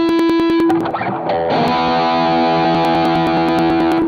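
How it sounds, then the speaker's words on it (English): Electric guitar through a distortion pedal, thick and sustained chords ringing loud with a gritty, saturated edge and rhythmic clicks. "with a distortion pedal as well"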